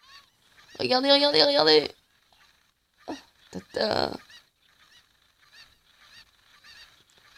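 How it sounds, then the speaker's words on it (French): Chickens in Zelda: Ocarina of Time squawk loudly in a sharp burst, followed by a couple of shorter squawks and fainter clucks. A voice speaks briefly between them. "il appelle les poulets pour qu'ils nous tuent"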